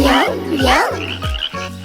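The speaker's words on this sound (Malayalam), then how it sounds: "2 കുഞ്ഞൻ തവളകൾ മരത്തടിയിലിരിക്കുന്നു. കൊതിയോടെ പ്രാണികളെ തിന്നുന്നു." Cartoon frogs croaking in a children's nursery rhyme, a loud, deep croak repeated about four times in a steady rhythm over a sustained musical backing.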